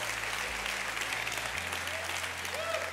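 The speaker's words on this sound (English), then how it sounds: "All right, give him applause." Audience applause for a man called up to receive a gift, a steady dense clapping from a crowd filling the room throughout, with low tonal sounds underneath.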